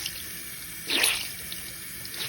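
Tap water running as a brand-new beauty blender sponge is rinsed, a short splashing gush that lasts about a second over quiet room hiss.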